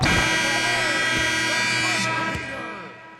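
End-of-quarter buzzer in the basketball video game NBA 2K14, a long, loud, harsh electronic drone holding steady for over two seconds before cutting off, with a commentator talking over it.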